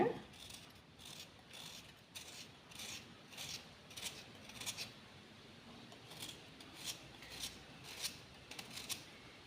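Palm jaggery grated by hand straight onto coconut for a sweet wheat appam, giving a steady series of dry rasping scrapes in a regular back-and-forth rhythm, close and fairly quiet.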